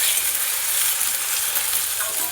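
Onion, ginger and garlic paste frying in a pan for raw banana kofta curry, a steady close sizzle with a soft hiss throughout and no talking.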